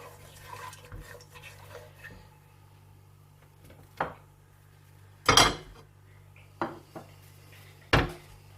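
Spices being stirred in oil in a cooking pot over a medium flame: a handful of sharp metal scrapes and clanks of a spoon against the pot, spaced irregularly over a quiet background with a faint hum.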